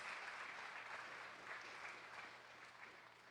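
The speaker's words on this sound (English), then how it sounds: "Can I get a round of applause from them?" Applause from a conference audience at a Haiti tech summit, a soft, distant, continuous patter of many hands that tapers slightly toward the end.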